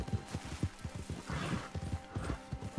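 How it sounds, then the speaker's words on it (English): Horse hooves clip-clopping at a steady walking rhythm in the video game Red Dead Online, close and fairly loud over a low in-game background, with a brief snort or whinny mixed in. "Oh, better search for my horse."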